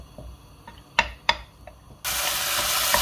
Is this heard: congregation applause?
no